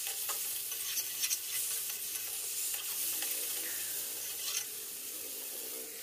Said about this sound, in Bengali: এবার আমি এর মধ্যে ফুলকপি এবং আলুটাকে অ্যাড করে দিচ্ছি। এটাকে একটু সুন্দরভাবে আবার একটু নাড়িয়ে চাড়িয়ে সুন্দরভাবে কষিয়ে নেব